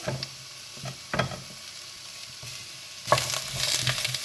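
Onions sautéing in a pot, a soft steady sizzle with brief louder bursts of stirring scraping through it, no voices.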